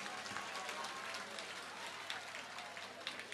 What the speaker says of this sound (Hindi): जोरदार ताली बजा करके हमारे आदित्य जी को धन्यवाद दो